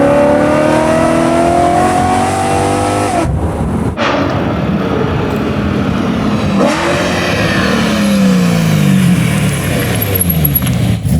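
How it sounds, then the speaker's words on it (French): A Rolls-Royce convertible with a modified exhaust line revs hard, its engine note rising and falling in loud repeated pulls, close and continuous with no talk. "Une petite ligne d'échappement, un cabriolet, on est heureux."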